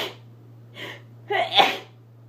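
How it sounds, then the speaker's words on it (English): A woman in her third trimester of pregnancy sneezes once, close and clear, after a couple of short breathy build-up gasps, in an otherwise quiet room with no talking. "I'm gonna sneeze,"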